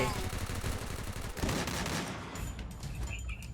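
Gunfire in the Free Fire shooting video game, with shotgun blasts and rapid bursts of shots in a dense, loud run, then the noise thinning out toward the end.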